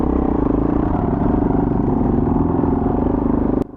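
Dirt bike, a KOVE 450 Rally or KTM 450 XCF-W, climbing in first gear through mud, its engine a loud, steady low drone with a rapid pulsing beat that cuts off abruptly near the end.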